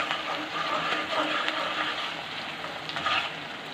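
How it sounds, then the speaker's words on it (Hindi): Garlic ginger paste frying with onions in a pan, a loud continuous sizzle with crackling and occasional stirring, close and steady throughout. "अब इसके अंदर हम लहसुन अदरक का पेस्ट डालेंगे और 2 से 4 मिनट तक इसको पकाएंगे"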